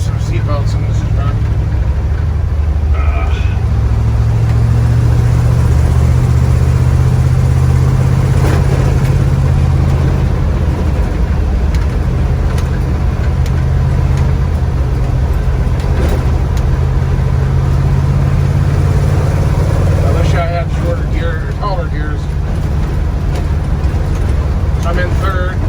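A 1961 Dodge D300 truck engine drones steadily while driving, a loud low-pitched hum that holds throughout, with brief rattles and a few spoken moments over it.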